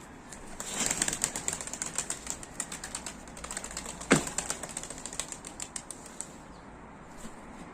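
A flurry of rapid wing claps as tumbler pigeons take off, dense and close at first, then thinning out into lighter flapping.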